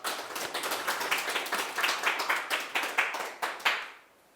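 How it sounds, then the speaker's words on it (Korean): An audience claps at a memorial society's research presentation on a Lotus Sutra digitization, giving a moderate round of distinct, rhythmic hand claps that stops abruptly. "박수 한번 부탁드리겠습니다."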